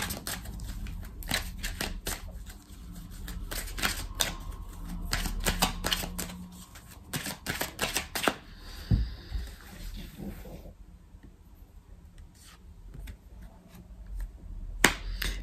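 Tarot cards being laid out and turned over, crisp papery snaps and flicks in irregular bursts, close and fairly quiet, with a calmer stretch near the end and no talking.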